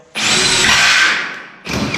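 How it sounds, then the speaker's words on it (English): A brand-new Harbor Freight power drill running for the first time, a loud close high-pitched whine that winds down after about a second and a half, then starts again with a second short burst. "brand new drill. I got it from Harbor Freight. This is the first time I used it."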